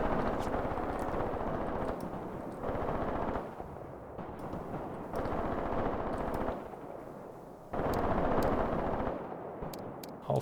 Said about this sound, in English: There comes the artillery strike. Battery is firing.